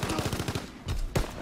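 Automatic gunfire in Call of Duty WW2, a rapid burst of about eight close, loud shots followed by a few heavier single shots, alone without talk.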